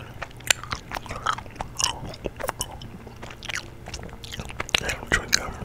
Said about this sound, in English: I'm eating Starburst right now.